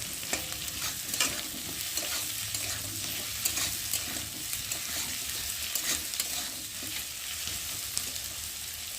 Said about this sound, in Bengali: আর এখন দিয়ে দেবো কেটে রাখা আলুগুলোকে, পেঁয়াজের সাথে একসাথে ভাজা ভাজা হয়ে যাবে।